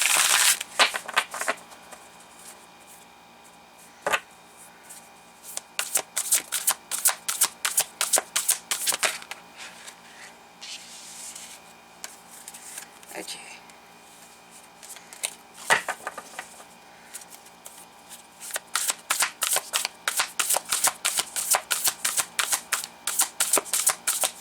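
Tarot cards being shuffled and pulled from a deck, bursts of rapid close riffling flutter alternating with quieter sliding and single card snaps, crisp and near with no voice.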